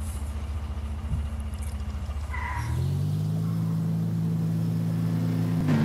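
A car in the Roblox video game starts up and drives, a steady mid-pitched engine hum that rises and settles into a constant drone after a brief idle, close and continuous with no talk.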